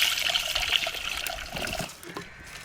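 Dissolved spice mixture pouring into a pan of fish curry, a close, steady liquid trickle and splash that thins out toward the end, with no voices.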